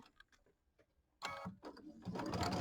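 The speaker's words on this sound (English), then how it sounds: "we're just going to sew a 1/4 inch seam and see how we do" Sewing machine stitching a quarter-inch seam, preceded by a few quiet handling taps and then a steady loud mechanical whir that runs continuously to the end.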